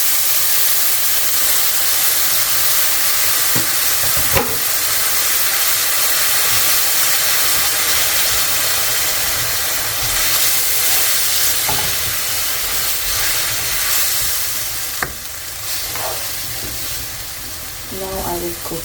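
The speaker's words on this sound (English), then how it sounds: "So I'm going to add a little bit of water." Water poured into a hot pan of spiced garlic ginger paste, bursting into a loud continuous sizzle and steam hiss, with occasional spoon scrapes and clinks near the end.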